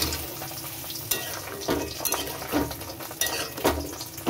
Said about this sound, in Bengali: এবার আমি বড়াগুলো দিয়ে দেবো।